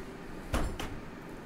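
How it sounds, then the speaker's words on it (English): A garage door opening in the first-person shooter Battlefield 3, two short mechanical thuds close together, moderately loud over a low game background. "In this garage door, when we open it"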